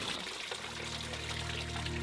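Water poured from a dipper at a shrine purification basin, a quiet, close, steady trickling splash that lasts two seconds, with no voices.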